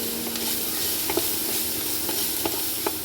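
Onion frying in a pan for vegetable pasta, giving a steady soft sizzle with a few sharp stirring clicks scattered through, close and moderately quiet, with no voices.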